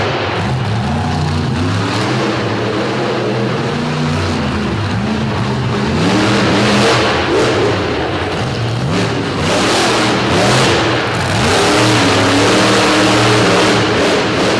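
Monster truck engine revving hard at a DuQuoin, Illinois show, a loud, continuous mid-pitched roar with repeated rising and falling revs over the whole stretch.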